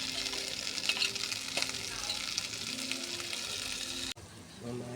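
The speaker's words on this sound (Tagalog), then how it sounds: "Ginisa sa may bawang, saka star margarine mga idol." Shrimp sauté in a pan with garlic and margarine, a steady close sizzle and crackle with stirring, briefly cut off near the end and then resuming.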